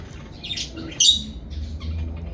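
African lovebirds and parakeets at their nest give bright squawks and chirps, with one louder sharp call standing out midway over a steady low background.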